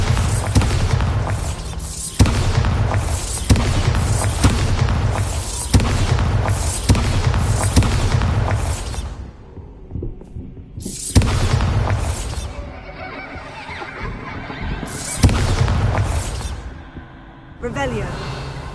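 Bombarda spell explosions in Hogwarts Legacy: a series of booming blasts at irregular intervals, several sharp hits with rumbling tails, loud over game sounds and a talking voice.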